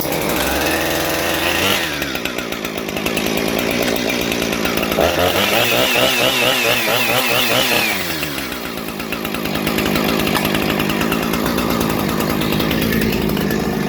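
A Husqvarna 455 Rancher chainsaw, freshly rebuilt, fires up and runs loudly up close, its engine revving up and settling in waves between idle and higher throttle, with no talking.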